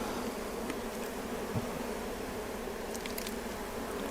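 Bees swarm around an open hive full of brood, a dense, steady buzzing hum filling the space close by, with no talking.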